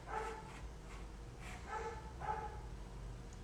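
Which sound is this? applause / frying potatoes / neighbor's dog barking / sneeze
neighbor's dog barking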